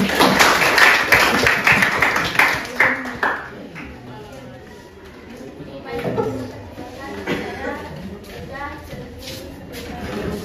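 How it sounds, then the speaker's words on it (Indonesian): A classroom group claps for group 1, a burst of scattered hand claps at the start that fades into chatter and a teacher's voice talking over the room. "tepuk tangan untuk kelompok 1 dulu"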